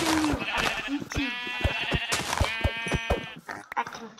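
Sheep bleating in the Minecraft video game, several drawn-out nasal bleats in close succession over game sounds, loud and near.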